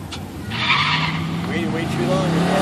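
A 1998 Corvette on a quarter-mile drag strip, a loud sustained engine roar with rising pitch and tire noise throughout, heard close and continuous.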